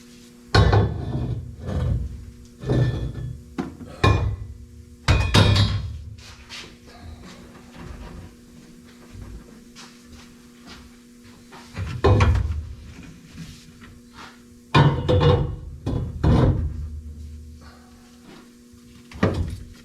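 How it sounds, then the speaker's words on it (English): Repeated hammer blows on a steel bar being forced into a demolition derby car's roll cage on a Nissan Maxima figure 8 build, loud close metallic strikes in irregular bursts with pauses between. "So I'm just gonna jam it in there and hammer it till it's about straight"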